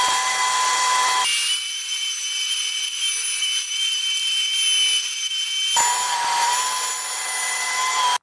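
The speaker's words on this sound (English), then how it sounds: "So now the last bandsaw cut." A bandsaw whines steadily as it cuts through wood, its blade tone dropping into a deeper, louder cutting sound for several seconds before easing back.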